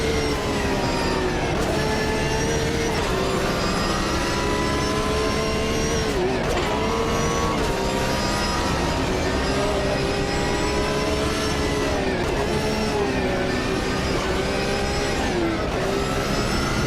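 A racing car engine in the video game Automobilista 2 roars continuously, its pitch climbing and dropping with repeated gear shifts, loud and close with no talking.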